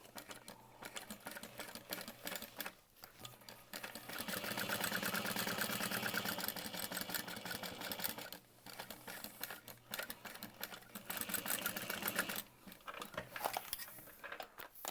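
Sewing machine top stitching a seam about 1/4 to 1/8 inch from the edge, its motor whirring in rapid needle strokes through several runs of a few seconds each, with short pauses between, near and fairly quiet.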